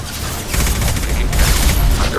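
Gunfire in the video game Mass Effect 2 comes as a loud, sustained fusillade of rapid shots, a near, continuous rattle that thickens after the first half-second.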